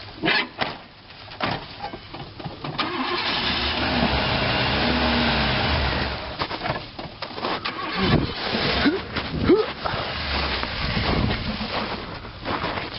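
A 1984 Oldsmobile Delta 88 with a dirty carburetor runs roughly after sitting, engine rumble surging and sagging unevenly, with knocks and rattles close by and faint voices in the background.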